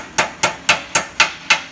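Six sharp hammer strikes on metal while fitting a Corvette exhaust manifold, at an even, quick rhythm, loud and close with short ringing decays.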